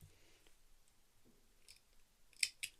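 Scissors cut fabric to free a zip, giving a few faint, close snips and clicks that end in two sharper cuts, in a quiet room without speech.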